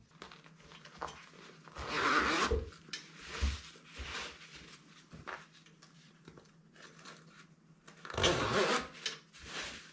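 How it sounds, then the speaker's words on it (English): Zipper pulled along microfiber padding while assembling a Summit Goliath SD climbing treestand, heard as two longer zipping bursts near the start and end with shorter rubbing and tugging sounds between, close and fairly quiet. "we're just gonna zip this stuff together, nice and easy."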